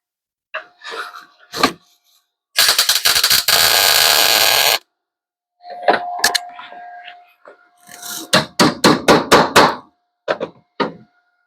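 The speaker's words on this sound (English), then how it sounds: "Drill again." Loud bursts of power-tool noise drilling a new piece of metal on a Triumph TR7 car, a long steady whine followed by rapid grinding pulses and sharp clanks, with short pauses between.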